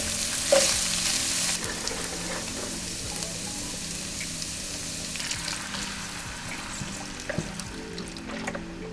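Chili powder, garlic powder, cumin and smoked paprika sizzle and fry in a pot of chili while being stirred, a steady close crackle with occasional scraping clicks and no talking.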